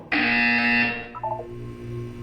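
A loud electronic buzzer sounds in the video game Portal 2, one harsh sustained tone lasting under a second, followed by a few short softer beeps and a low hum.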